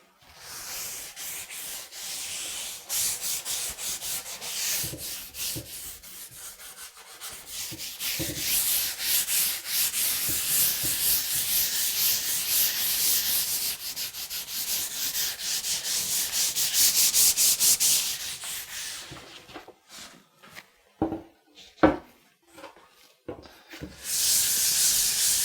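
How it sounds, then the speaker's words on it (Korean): Sandpaper scrapes back and forth across a wooden belly board in long, steady hand-sanding strokes, close and continuous, then breaks into short separate rubs near the end. "이렇게 코팅이 되어 있는 거친 부분을 나무랑 닿게 해서 사포질을 하시면 돼요"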